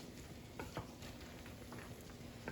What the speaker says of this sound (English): so we're going to stir these real quick